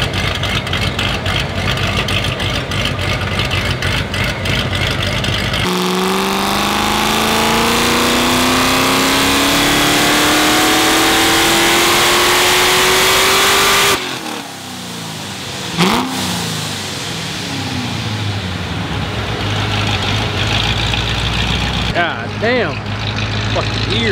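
A boosted Corvette engine revs hard on a hub dyno in a shop, a loud rising wail that climbs steadily in pitch before cutting off, followed by burbling idle and further blips.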